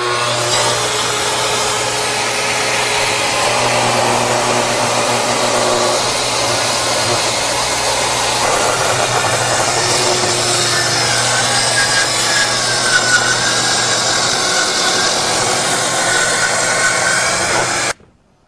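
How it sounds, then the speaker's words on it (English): A Festool plunge saw fitted with a combination blade cuts through thick lumber, a loud, steady whining rasp held for about eighteen seconds before stopping abruptly. "this one I'm using because I'm cutting lumber that's so thick"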